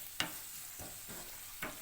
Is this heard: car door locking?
no